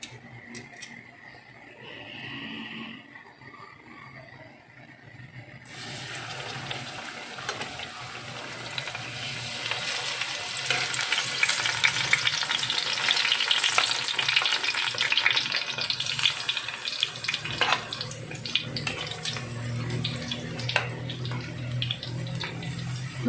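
Cooking oil heats for banana cue, starting quiet, then rising into a loud, steady, hissing sizzle that fills the rest of the stretch, close by and without talk.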